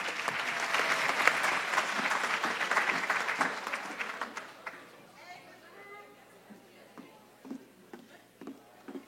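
Audience applause for construction students at a school honors ceremony, a dense round of clapping that fades after about four seconds into scattered claps and quiet room noise with faint voices.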